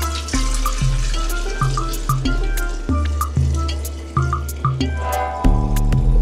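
Homemade woodroot tonic poured into a glass jar, with a series of rhythmic glugging, dripping liquid pulses that strike close and clear, each one decaying before the next, ending in a faster splashy trickle.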